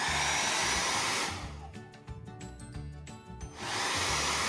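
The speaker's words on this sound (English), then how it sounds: "So I'm going to start with my hair dryer. I have it on high heat," A hair dryer on the high, hot setting blows with a loud, steady whooshing roar, briefly drops lower and sputters in the middle, then returns to full blast.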